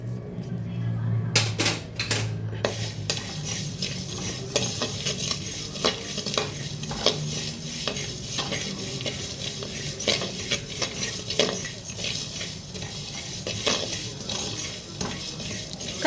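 Peanuts, poppy seeds and sesame roast dry in a pan, with busy, rapid scraping and clicking of a spoon stirring them throughout and a brief louder clatter near the start.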